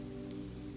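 Rain falls steadily on surfaces in a Spanish courtyard under arches, a soft, even hiss with a low steady hum beneath and no voices.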